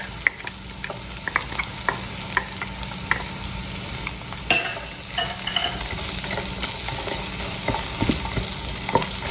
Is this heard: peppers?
yes